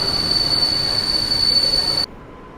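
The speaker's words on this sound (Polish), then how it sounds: "Wjeżdża Intercity Uznam kilka minut przed czasem." The Intercity Uznam night train pulls into Warszawa Zachodnia station with a loud, piercing wheel squeal over rumbling rail noise, which stops sharply partway through.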